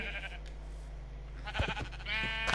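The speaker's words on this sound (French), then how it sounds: "Mouton." Sheep bleat in a survival video game, several short bleats over a steady low ambient hum, fairly close and clear.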